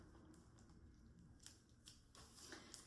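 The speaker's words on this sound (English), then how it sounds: "It is wrapped extremely tight, hence I'm actually busting in the scissors here." Faint snipping and crinkling as scissors work through tight wrapping, a few quiet cuts with a sharper click at the end.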